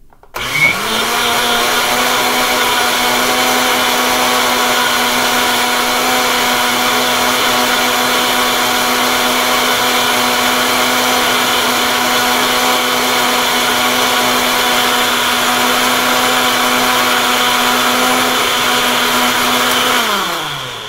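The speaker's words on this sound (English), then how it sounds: "Once all those ingredients are into your blender, then I will mix everything up." A blender whirs continuously at full power, mixing pineapple Julius drink ingredients, loud and steady for about twenty seconds before winding down at the end.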